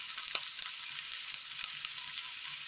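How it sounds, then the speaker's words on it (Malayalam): Mustard seeds crackle in hot oil in a pan, a faint steady sizzle with scattered soft pops, heard close and alone. "എണ്ണയിലേക്ക് കടുക് ഇട്ട് കൊടുക്കാം."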